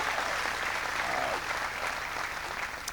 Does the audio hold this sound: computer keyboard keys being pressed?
no